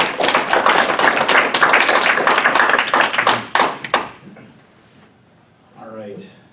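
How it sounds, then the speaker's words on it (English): Audience at a town board meeting in Boston, New York, breaks into dense clapping that fades out after about four seconds, followed by a short murmur of voices. "I think you get a round of applause for doing it so long"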